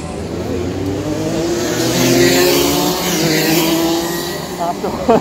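Rotax racing kart engines passing on an outdoor karting track at Rye House, a loud rising and falling buzzing drone as karts come through, with a person talking over it.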